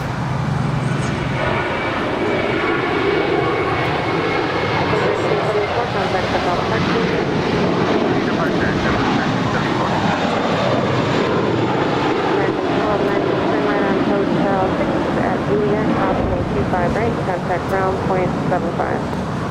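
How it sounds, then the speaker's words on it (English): A Boeing 787-9 Dreamliner of Air Tahiti Nui, arriving from Paris, taxis at LAX airport, its steady jet-engine roar continuous and fairly loud with wind rumble, while a person talks over it. "this is Air Tahiti Nui Flight 7 coming in from Paris. It's a 787-9 Dreamliner."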